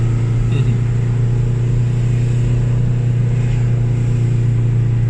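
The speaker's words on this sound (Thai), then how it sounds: "ฟังเสียงเอจินเบรกดิ" A car engine braking in low gear while crawling down a steep, busy mountain road at Doi Chang during a festival, giving a steady loud droning rumble that holds evenly throughout with no talk.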